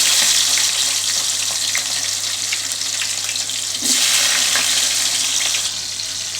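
Chopped onions and four green chillies fry in hot oil, a strong, steady hissing sizzle close up that runs without a break, with a few faint pops.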